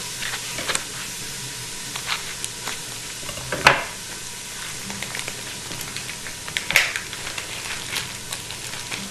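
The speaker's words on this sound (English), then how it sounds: "I am sauteing all these in the same pot that I'm going to be cooking this in" Vegetables sizzle steadily in a pot as they are sauteed for black beans and rice with sausage, a constant frying hiss with occasional stirring scrapes and a couple of louder clatters, no talking.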